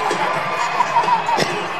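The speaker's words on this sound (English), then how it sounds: "And the crowd loves that." Crowd cheering and shouting at an indoor soccer match between the St. Louis Ambush and Florida Tropics, a steady roar of many voices that swells briefly near the end.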